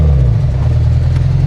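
A Mitsubishi Lancer Evo rally car engine idles loud and steady, a deep low rumble with a faint rough pulse throughout.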